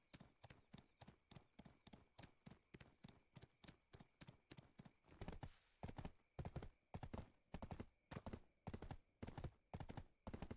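Horse hooves clip-clop in a steady rhythmic gait while riding in the video game Black Desert Online, with the footfalls becoming louder and sharper partway through.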